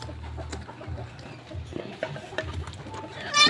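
Chickens cluck in a coop, with soft, uneven clucks close by and a person talking over them.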